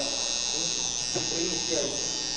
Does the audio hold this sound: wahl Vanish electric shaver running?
yes